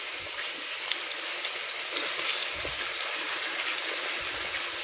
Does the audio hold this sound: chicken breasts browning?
yes